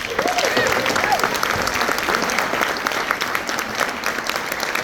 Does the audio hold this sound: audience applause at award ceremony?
yes